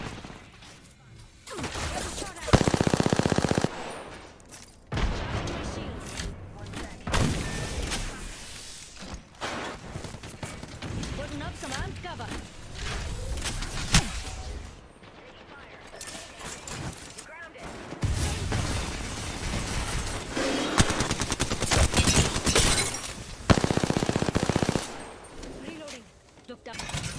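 Gunfire bursts in the Apex Legends battle royale game ring out repeatedly across the clip, loud volleys alternating with quieter stretches, mixed with game sounds and a voice talking throughout.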